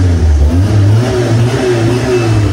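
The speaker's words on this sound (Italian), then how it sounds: "iniziamo a dare qualche sgasata" A cheap 200-euro car with a damaged engine being revved, loud and close, its low droning engine note rising and wavering through short throttle blips without pause.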